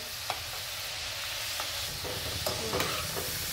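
Wheat flour valiv laddus deep frying in oil, a soft steady bubbling sizzle with a few light ladle clinks and turns, fairly faint and close, with no voices.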